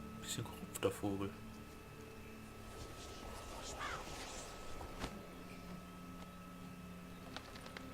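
A raven caws in the video game Witcher III, a rough call rising midway through over murky game ambience and faint voices.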